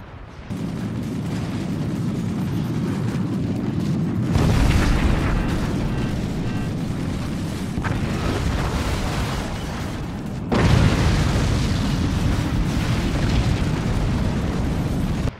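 Howitzer shells exploding in the siege game Forts, a continuous roar of heavy blasts with two especially loud impacts standing out, dense and close with no talk.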